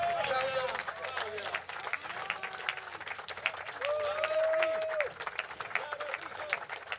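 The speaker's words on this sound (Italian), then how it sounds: "Un applauso per la grande orchestra Terra del Sole" A concert crowd applauds steadily while a voice talks over the clapping in Italian, with cheering and shouts mixed into the dense, sustained applause for an orchestra at a religious festival concert in Nardò.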